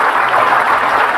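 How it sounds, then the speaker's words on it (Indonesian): Audience applause at a motivational seminar, a dense steady wash of clapping hands sustained at even loudness throughout, with no voices over it. "kasih tepuk tangan dulu buat mereka"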